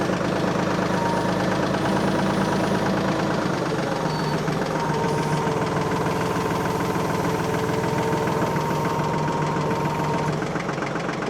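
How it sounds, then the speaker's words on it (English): Tractor with a backhoe attachment runs steadily while lifting, its diesel engine giving a continuous knocking idle drone, close and unbroken, with no talk. "So if I can take the tractor and lift up on this end should go down"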